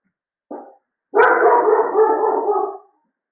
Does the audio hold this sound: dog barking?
yes